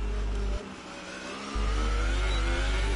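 A Formula 1 racing car in a video game sets off on a qualifying lap at Monaco on ultra-soft slicks, its engine droning steadily and close, briefly dropping away before surging back to a loud sustained note.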